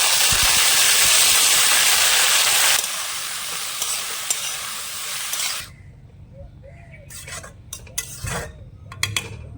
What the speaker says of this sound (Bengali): আরও দু চামচ তেল গরম করে নিচ্ছি এবার দিয়ে দেবো হাফ চামচ পাঁচ ফোড়ন আর দিয়ে দেবো বাঁধাকপি